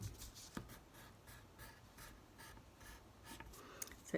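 A pencil scratches zigzag strokes across paper, a faint, close rasping in short repeated back-and-forth bursts, with no talk.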